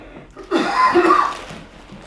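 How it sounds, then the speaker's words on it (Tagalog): A person coughs once in a short, close burst that fades out, with no talking around it. "Inuubo pa"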